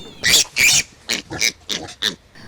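A dwarf mini-pig grunts and squeals in a quick series of about seven short, close bursts, the first two louder and longer.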